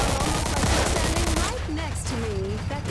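Dense, loud gunfire from a video game, Mafia 2 Definitive Edition, a rapid continuous burst filling the first half, then sparser shots under game effects and a voice talking.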